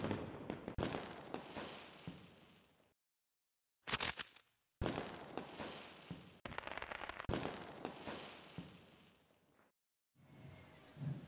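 Sharp firework cracks used as a sound effect in a film mix, several loud bursts with crackling tails separated by brief silent gaps.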